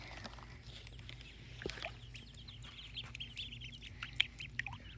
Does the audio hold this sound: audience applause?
no